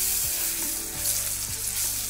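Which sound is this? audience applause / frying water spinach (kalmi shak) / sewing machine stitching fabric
frying water spinach (kalmi shak)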